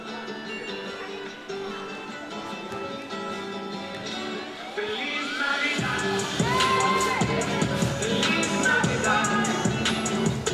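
Crimson Tide cheerleaders perform a cheer at an Everett (MA) boys high school basketball game against Lynn Classical. Festive music plays through the gym, growing louder and fuller midway, under a low murmur of crowd noise.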